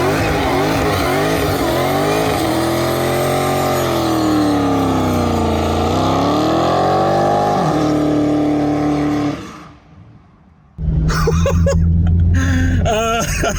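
A Dodge Charger Hellcat Redeye does a burnout, its engine roaring loud and sustained with rising and falling revs and tire squeal, then briefly dropping off before a second loud burst of revving.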